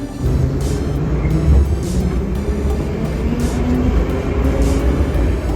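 Steady low rumble and rattling of a moving metro train carriage, loud and continuous, with faint hissing bursts overhead and no talking.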